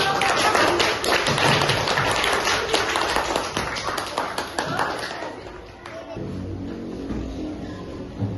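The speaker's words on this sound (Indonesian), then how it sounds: "Ayo kita beri tepuk tangan yang sangat meriah" Classroom audience of children clapping loudly at the end of a student group presentation, dense rapid claps that thin out and fade after about six seconds.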